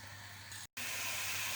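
Oil heating in a pan for frying twisted savory snacks produces a steady, fairly soft hiss. A brief silent break interrupts it, and then the hiss resumes slightly brighter.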